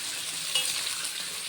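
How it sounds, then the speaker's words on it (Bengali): Potato pieces sizzling and being stirred in hot oil in a pan, a steady close frying hiss with a brief scrape of stirring, no voices. "আলুগুলো আস্তে আস্তে নেড়ে নেব।"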